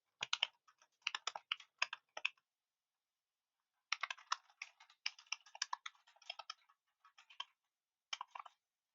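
Bursts of quick, light keystrokes on a computer keyboard, typed in short clusters with pauses between them, close and quiet with no talking.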